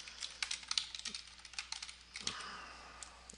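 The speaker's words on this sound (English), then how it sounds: "I have to go back through and type at the beginning every time" Fingers tapping on a computer keyboard, a quick, irregular run of light clicks close by in a quiet room, with brief pauses between bursts of keystrokes.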